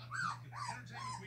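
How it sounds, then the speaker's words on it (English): A three-week-old female pitbull puppy whines three times in close succession, high rising-and-falling cries heard up close over a steady low hum. "Mama Dog would make her stop whining"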